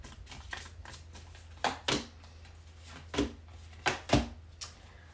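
Tarot cards being shuffled and drawn, a series of crisp riffling and snapping card sounds in separate bursts over quiet room tone, close and fairly soft, with no talking.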